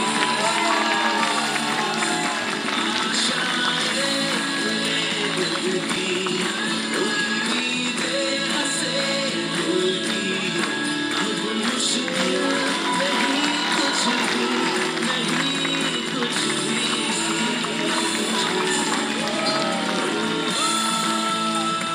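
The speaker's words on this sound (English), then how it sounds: "Can we have a huge round of applause for her?" A crowd at a preschool annual function claps and cheers in a steady wash of applause with scattered shouts, heard from within the audience and continuing throughout.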